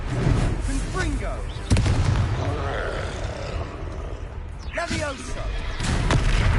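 A Confringo fire-blast spell from Hogwarts Legacy goes off as a loud, booming impact with a roaring burst, followed by another blast later amid a dense combat soundscape. A voice shouts during the fight.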